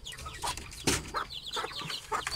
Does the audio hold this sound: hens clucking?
yes